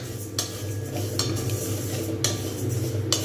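A metal spoon scrapes and stirs moong dal frying in a pan for bhog khichuri, with about four sharp strokes at a regular pace over a steady low sizzle.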